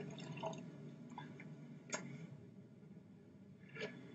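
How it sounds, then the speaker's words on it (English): Juice poured into a glass, heard as quiet liquid trickling with a few sharp drips and clicks spread across a few seconds, faint and close, with no talk. "Now we're going to pour this juice into this glass."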